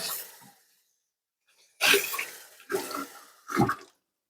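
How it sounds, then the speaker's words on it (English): A rag washed under a running tap: a brief gush of water, then after a pause three short splashing bursts of wringing and rinsing, close and fairly loud, with no talk. "wash my rag."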